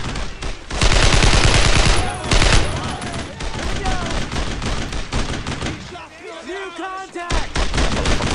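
Loud, dense gunfire in Brothers in Arms: Road to Hill 30, a sustained fusillade of rapid shots that swells and pauses briefly, with voices shouting between the bursts.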